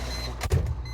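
A power window winding down on a Volvo FH12 truck cab, a short motor whirr lasting under a second over the low rumble of the idling engine.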